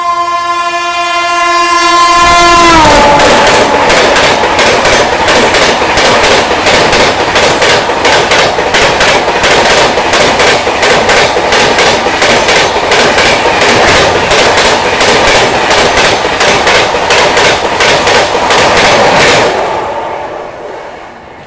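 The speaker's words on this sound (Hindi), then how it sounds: "ये थी डिब्रूगढ़ राजधानी एक्सप्रेस, ओवरटेक करके गई है" Dibrugarh Rajdhani Express passenger train overtaking at high speed, a loud horn blast opening into a sustained roar with rapid rhythmic clickety-clack of wheels over rail joints, close by and continuous until it fades away at the end.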